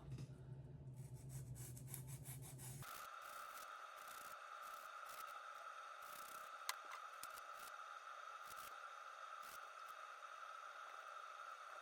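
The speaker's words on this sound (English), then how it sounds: "I'm just using like a nail file" A coarse-grit nail file rasps against the edges of a resin block holding preserved roses, a quick run of faint rhythmic strokes at first, then a steady, quiet hum with occasional light ticks.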